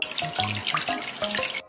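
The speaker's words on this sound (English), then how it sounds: "Time to wash them with water." Tap water runs and splashes over dishes in a kids' house-cleaning cartoon game, a short bright gurgling stream with small clinks and bursts, close and fairly soft, with no talk.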